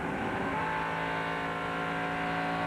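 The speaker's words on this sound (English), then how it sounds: "So Nemechek, you hear him pick the throttle back up." Stock race car in the 1998 Sam's Town 300 with a 350 cubic inch, 9-to-1 compression engine, throttle picked back up: a loud, continuous harmonic engine roar holding steady, close by, with no talk.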